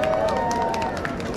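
A street crowd around a card-trick performer claps and cheers together in a dense, loud, continuous burst that lasts the whole moment, with voices mixed into the noise.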